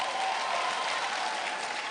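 A church congregation at a sermon claps together, a brief, steady wash of many hands applauding at moderate volume, without a break.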